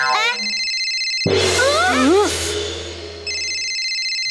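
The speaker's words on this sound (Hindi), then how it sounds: "अब तो फोन की घंटी भी बज गई" A phone ringtone plays with steady electronic tones, interrupted midway by a loud burst of music and voices before the ringing resumes.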